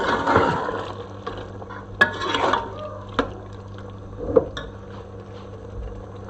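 Beef stir-fried (bhuna) in a karahi for beef karahi, a soft steady sizzle with occasional sharp clinks and scrapes of a utensil against the pan, fairly quiet and close.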